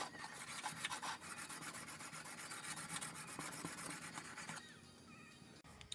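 A steel chisel's flat back is rubbed back and forth on the smooth side of a sharpening stone, producing rhythmic close rasping strokes that stop abruptly near the end.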